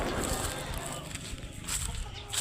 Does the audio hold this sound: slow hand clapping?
no